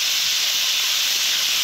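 Puti fish frying in hot oil, giving a loud, steady, unbroken hiss that sounds close up.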